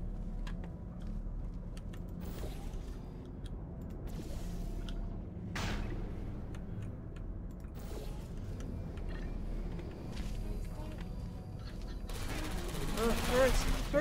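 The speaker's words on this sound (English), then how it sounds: "Turrets, no!" Automated turrets in Portal 2 fire in rapid bursts of gunfire, several sharp sputtering volleys scattered across the stretch amid mechanical clatter, with a person's voice talking over the game sounds.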